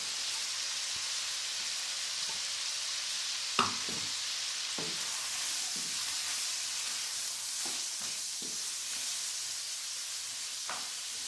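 Chicken strips with sliced carrot, capsicum and cabbage sizzle in a pan with a steady soft hiss, broken by occasional scraping stirs and light clinks, no voices heard.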